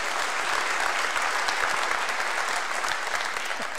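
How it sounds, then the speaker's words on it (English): A church congregation applauds loudly and continuously, dense clapping filling the whole stretch without pause. "Can you give a round of applause for Hunter?"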